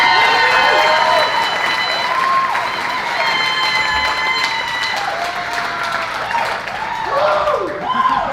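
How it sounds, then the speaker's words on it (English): A comedy club audience applauds and cheers a comedian taking the stage, a loud, sustained wash of clapping with a few whoops and voices mixed in. "please give a round of applause for Anthony Milonis"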